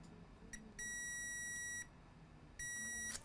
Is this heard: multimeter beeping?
yes